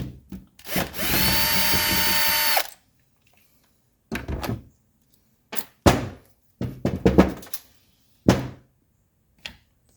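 A power drill with a Torx bit backs bolts out of a Mercedes 300SD window motor assembly: one steady whir for about two seconds, then scattered clunks and knocks as parts shift, no talking.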